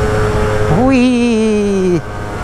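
A 1998 Gilera Runner 180 SP scooter climbing a steep hill: a close, loud single-cylinder engine drone that rises sharply, holds a strong steady pitch under load for about a second, then cuts back abruptly.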